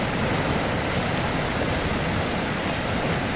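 The flooded Rapti river in Hetauda rushes past after breaching a bypass embankment, a loud, dense, continuous roar of churning water close by with no pauses.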